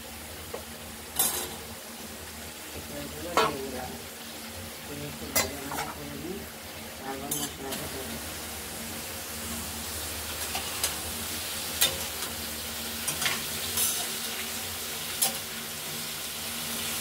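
Raw jackfruit fries with stone-ground spices in a pan for a prawn dish, a continuous sizzle punctuated by repeated stirring scrapes and knocks of a spatula at irregular intervals.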